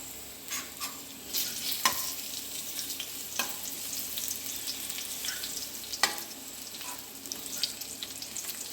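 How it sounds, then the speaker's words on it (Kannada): Dates cooking in melted ghee, a continuous close sizzle punctuated by scraping and clinking strokes of a spoon stirring the pan, with no voices. "ಈ ತುಪ್ಪದಲ್ಲಿ ಈ ಖರ್ಜೂರ ಮೆಲ್ಟ್ ಆಗಬೇಕು."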